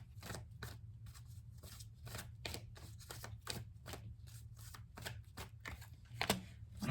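Tarot cards are shuffled close by in a quick, rhythmic series of crisp riffling flicks, over a low steady hum.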